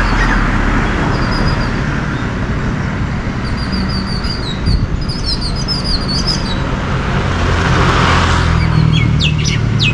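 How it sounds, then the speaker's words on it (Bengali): Birds chirping and calling beside a road, bright scattered tweets over a constant hum of passing highway traffic, moderately close. "পাখির আওয়াজের কারণেই দাঁড়াইছি।"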